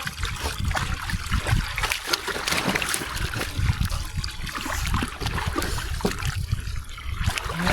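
A dog splashes down into a pool of water, giving a steady, close churning and dribbling wash that fills the whole stretch without pause.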